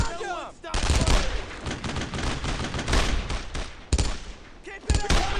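Rifle and machine-gun fire in Brothers in Arms: Road to Hill 30 as soldiers engage German paratroopers, sustained bursts with sharp nearby shots standing out, while soldiers shout over the shooting.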